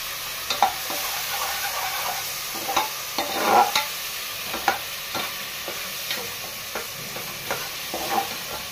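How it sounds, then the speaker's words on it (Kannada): Steady sizzling of a spice tempering on slow flame in a hot pan for mutton head sambar, with occasional stirring scrapes and small pops, close and continuous, no talking. "ಸ್ಲೋ ಫ್ಲೇಮಲ್ಲಿ ಒಗ್ಗರಣೆ ಮಾಡ್ಕೊಳ್ಳಿ."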